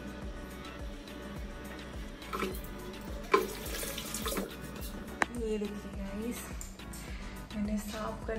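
Tap water runs steadily into a sink while a face is washed, a continuous close splashing with occasional sharp clicks, as someone talks over it.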